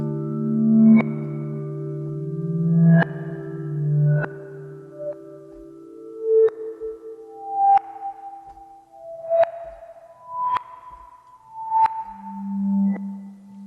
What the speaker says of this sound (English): a bowed Grand Marimba you don't often see, and then a reverse, so that's still decaying